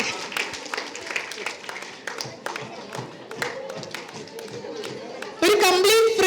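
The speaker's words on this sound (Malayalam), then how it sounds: "നല്ല കയ്യടി" Applause from an audience at a book launch during the Sharjah International Book Fair, scattered claps that swell into a dense burst near the end, with a voice heard earlier.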